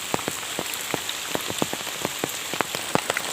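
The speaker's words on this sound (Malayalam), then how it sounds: "ഇവരിവിടെ മഴ പെയ്തുകൊണ്ടിരിക്കുകയാണ്." Steady rain falls over fields, a soft continuous hiss with scattered close drops pattering irregularly on a nearby surface, no voices.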